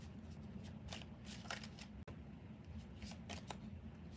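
Tarot cards shuffled by hand for a reading, a steady run of soft riffling flicks and papery slaps that carries on for several seconds at close range, quiet and without talk.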